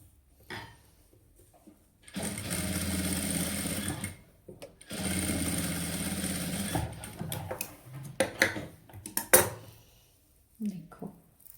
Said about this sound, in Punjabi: ਵਰਕ ਦੀ ਬੋਰਡਰ ਨਾਲ ਨਾਲ ਕਰਕੇ ਲਾਉਣੀ ਹੈ ਸਲਾਈ ਧਿਆਨ ਨਾਲ